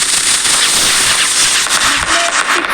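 Diwali firecrackers burst in a dense, loud crackling rush, a continuous hiss of popping with a few sharper bangs, and no voices.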